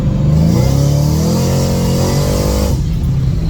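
A Shelby GT500's engine revs up loudly in third gear, its pitch climbing steadily under acceleration, then cuts off abruptly near the end.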